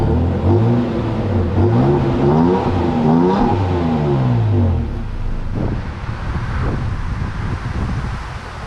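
A Toyota Tacoma TRD Sport with a 3.5-liter naturally aspirated V6 and six-speed automatic accelerates hard, its engine note climbing through several upshifts with rising and falling sweeps, then easing into wind noise.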